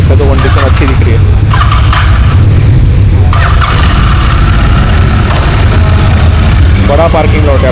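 A Royal Enfield Interceptor 650 motorcycle on a test ride at a large used bike dealer's parking lot, its engine a loud steady rumble throughout, with someone talking over it.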